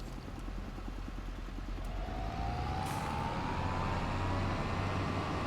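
A tractor engine in the video game Farming Simulator 25 drones steadily and loudly, with a whine that slowly rises in pitch as it drives.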